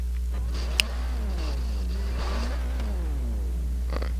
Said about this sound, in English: can you hear me rev this engine?